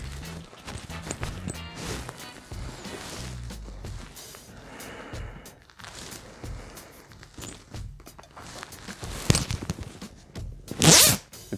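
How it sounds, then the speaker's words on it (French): A trouser fly zipper is pulled in one quick, bright zip near the end, after several seconds of fabric rustling and handling close by. "Le petit bruit de braguette."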